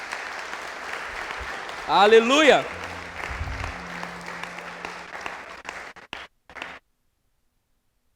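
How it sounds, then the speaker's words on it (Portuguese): A church congregation claps in steady applause for the Lord during an evening sermon. A loud shouted voice rises over it early on, the clapping keeps going beneath, then it thins out and cuts to silence near the end. "Você pode aplaudir o Senhor nessa noite?"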